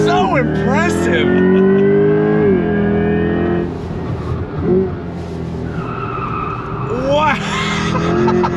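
A 2024 Chevrolet Corvette E-Ray in a four-wheel drift, tires squealing in loud rising and falling tones over the engine roar, with an excited voice talking in the car.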